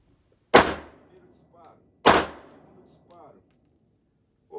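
Two loud, sharp pistol shots fired during a quick-reload drill, about a second and a half apart, each cracking out and ringing down quickly, with quiet handling noises between them.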